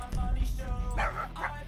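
A weak, small-sounding dog bark from a video game, a few thin yips and whimpers over steady low game background noise, heard alone without talk.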